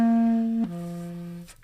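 A held instrument note suddenly bends down to a lower pitch and sustains there before fading, a lift and bend heard alone at moderate volume.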